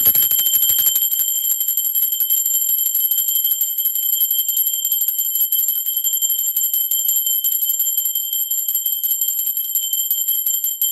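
A bell rings with a bright, sustained metallic tone that carries on steadily for the whole stretch, loud and alone with no talking over it.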